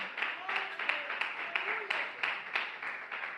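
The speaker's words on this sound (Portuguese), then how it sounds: "Palmas de vitória para Jesus de Nazaré." A church congregation clapping in a steady rhythmic beat, a dozen or so evenly spaced claps, moderately loud, with a voice speaking under them.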